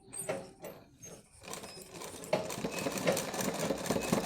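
A sewing machine stitches a thread cord into a latkon design, running in short uneven bursts that grow busier and more continuous toward the end, close and fairly quiet.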